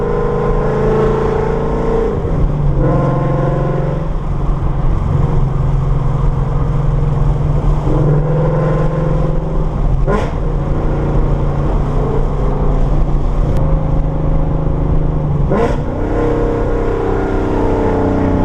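A loud, rumbling Ford Mustang exhaust drones steadily nearby, with its pitch rising and falling as the engine revs and shifts.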